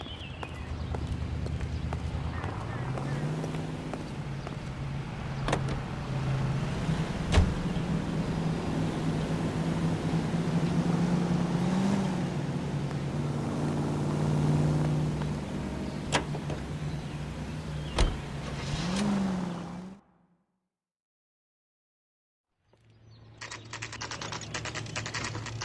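Car engine in the video game L.A. Noire, a steady low hum with gear shifts and occasional sharp knocks for about twenty seconds, cutting out to silence before a brief return.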